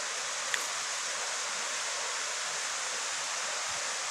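Steady, even rush of river water where tilapia are being fished, a continuous broadband hiss with no voices.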